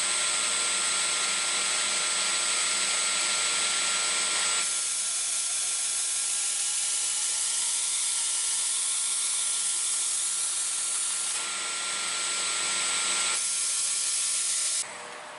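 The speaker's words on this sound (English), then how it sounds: "So now we have the blade sharpened." A thin kitchen knife blade is sharpened on a grinder, giving a steady, loud abrasive hiss that runs almost the whole time and changes slightly in tone partway through. No one speaks.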